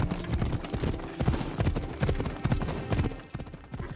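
Horse hooves clip-clop steadily in Assassin's Creed Odyssey, a brisk rhythmic run of close, fairly loud hoofbeats with game ambience beneath and no talk.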